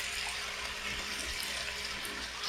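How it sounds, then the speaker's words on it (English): Peppercorn sauce poured into a crowded wok of black pepper chicken, a continuous liquid pouring rush heard close and fairly loud with no talking. "now we're adding our peppercorn sauce"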